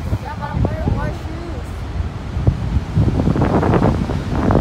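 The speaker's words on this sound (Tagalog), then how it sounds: "Napaka mahangin." Strong, steady wind buffets the microphone with a continuous roar at Mori Point, Pacifica, California, overlooking the Pacific Ocean, while a person speaks briefly early on.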